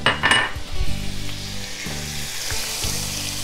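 Veal shanks searing in hot olive oil and butter, a loud, dense sizzle with a few low clunks and tonal scrapes as meat and utensils shift in the pan, close and continuous.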